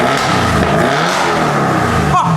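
An Audi RS7 with a full straight pipe exhaust revs hard in a loud, rough roar close by, with a brief dip near the end; voices are faintly present.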